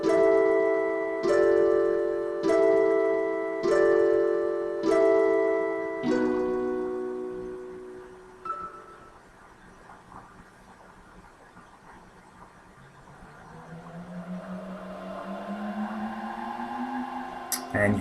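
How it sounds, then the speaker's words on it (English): Chrono Trigger time gate music: repeated bell-like synth chords pulse about every second, then fade into a low drone with slowly sweeping, wavering tones. "you can hear the time gate music in the background"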